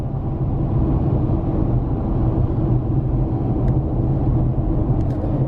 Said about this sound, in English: A dump truck towing a boat.